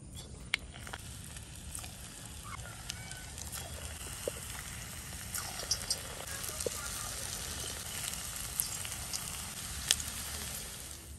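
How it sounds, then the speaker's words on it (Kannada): Okra hisses and sizzles steadily in hot oil, a quiet continuous crackle with scattered small pops throughout, close but low in level, with no talking. "ಎಣ್ಣೆ ಕಾದಿದೆ, ಈಗ ಬೆಂಡೆಕಾಯಿಯನ್ನ ಫ್ರೈ ಮಾಡುವ."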